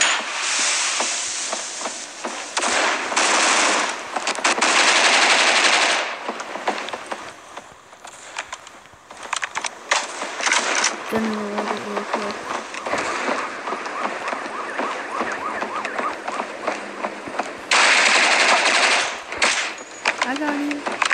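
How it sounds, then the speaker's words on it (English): A P90 submachine gun fires in a first-person shooter video game, loud rapid bursts of automatic fire repeated several times with pauses between, alongside occasional talk. "I'm gonna use the P90. I like this gun."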